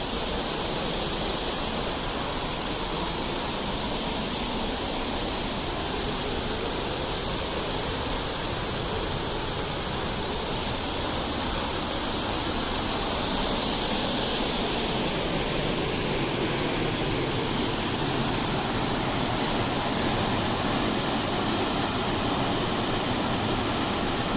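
Kentucky Falls, a waterfall on a forest trail near Mapleton, Oregon, roars as a loud, steady, continuous rush of water with no talking.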